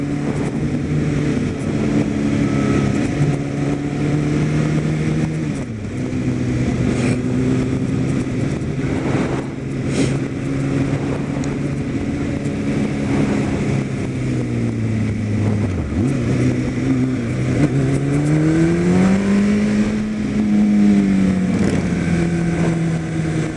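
A big Harley-Davidson motorcycle rumbles along a winding road, its loud engine note rising and falling repeatedly through curves, steady and close throughout.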